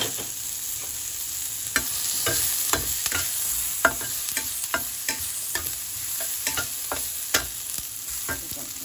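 Onions frying in a pan, with a continuous bright sizzle and regular scraping stir strokes, close and moderately loud, alone with no talking.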